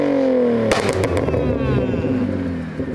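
A BMW E36 fitted with an ISR performance exhaust revs hard and loud up close, its engine note sweeping down before a sharp burst of pops, then a rough, rumbling idle.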